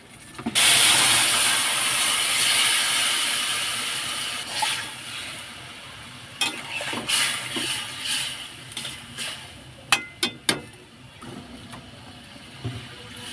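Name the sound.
curry simmering and boiling in water in a pot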